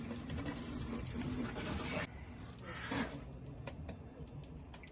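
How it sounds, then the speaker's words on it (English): Air and water rush and gurgle through underfloor heating pipes during flushing, a continuous hiss, steady and fairly faint, with a brief surge partway through. "You can hear all the air in that passing through."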